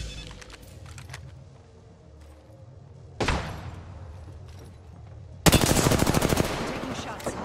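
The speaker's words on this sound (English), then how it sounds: "Taking shots" Video game gunfire crackles in short bursts, with quieter shots early on, a louder volley midway, and a dense rapid automatic burst near the end, faint voices in the background.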